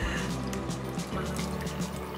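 Homemade strawberry almond milk being poured, a continuous close liquid gurgle and trickle with a voice partly over it.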